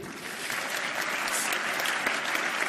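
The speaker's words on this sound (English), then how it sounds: "can we just give a round of applause to the entrepreneurship team?" Audience applause at a new venture startup competition, a soft, steady wash of many hands clapping that carries on evenly for a few seconds, heard from a distance.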